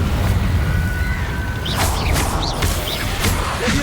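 Confringo fire-blast spell cast in Hogwarts Legacy: a loud burst of crashing, rumbling explosion noise with whooshing sparkle tails over a dense game soundscape.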